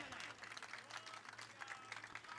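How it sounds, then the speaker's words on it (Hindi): An audience claps at a stage event where a lamp is lit to lay the foundation of a spiritual and cultural school. The applause is steady and dense throughout, heard from some distance and fairly faint. "अगर उचित लगे तो तालियां बजाएं।"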